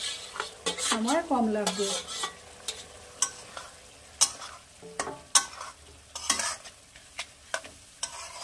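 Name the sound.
vegetables and spices being stir-fried for chana dal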